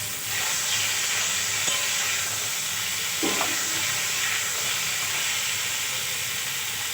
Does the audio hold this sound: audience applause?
no